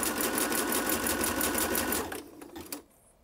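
A sewing machine sewing on its widest zigzag width at a short 1.5 stitch length runs steadily and loudly for about two seconds, its rapid needle strokes pulsing evenly, then slows and stops, leaving near silence.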